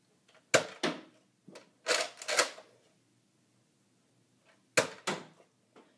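A Nerf Retaliator toy blaster fires several darts in uneven bursts, each a sharp nearby snap or thwack followed by a short rattle, with quiet gaps between shots and no talking.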